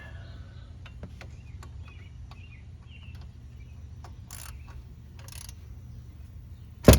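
A hand ratchet snugs tie rod end bolts on a 2002 Pontiac Grand Am: scattered light clicks and a couple of short scraping bursts over a low hum, ending in a loud metallic clank.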